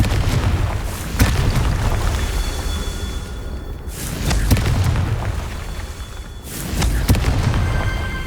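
Repeated Confringo blasting-spell explosions from the Hogwarts Legacy video game, three heavy booming bursts spaced a few seconds apart over a continuous low rumble.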